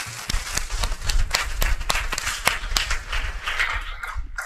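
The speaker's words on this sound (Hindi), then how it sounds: "तालियां बजाइए।" An audience clapping at a Hindi lecture hall gathering, sharp separate claps in an uneven patter that continues for a few seconds before thinning out near the end.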